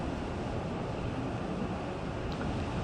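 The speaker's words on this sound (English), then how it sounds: "It is windy." Wind blowing outdoors straight into a microphone, a loud continuous rumbling buffet with broadband roar that stays steady throughout and covers everything else.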